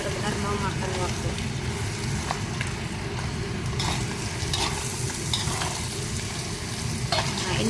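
Radish cake mixture being stirred as it fries in oil, a dense continuous sizzle with repeated scraping and clacking of a spatula against the pan, up close and fairly loud.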